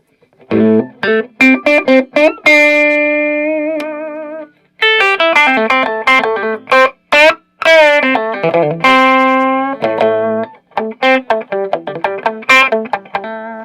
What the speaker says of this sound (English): It's more of a broken up type of tube amp type of sound